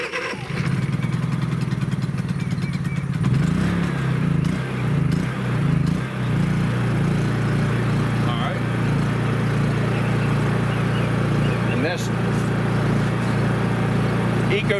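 Honda EU3000is generator engine running after a pull start, a loud continuous close hum with a wavering note early on that then settles into a steady drone, with a person talking over it.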